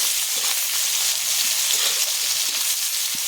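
Onions frying in oil in a pan give a steady, close hiss of sizzling that holds at an even level throughout, with no talking.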